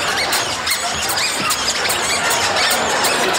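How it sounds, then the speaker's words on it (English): Several pairs of new squeaky shoes squeal steadily and rhythmically as people walk about a bar, loud and close, with no talking over them. "Mine are squeaking, too, Cliff."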